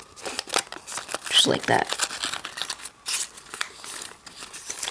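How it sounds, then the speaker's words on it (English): Origami paper flaps are folded and tucked with crisp crinkling and rustling in uneven bursts, close up and moderately loud, while a person talks briefly over them. "now you're gonna fold this flap down, and then fold it down again, tucking it under here."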